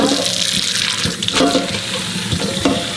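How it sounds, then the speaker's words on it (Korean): Aralia shoots being rinsed in clean water, close sloshing and splashing with a few distinct swishes and drips as the shoots are swirled and lifted. "두세 번 정도만 이렇게 맑은 물에 헹궈 가지고"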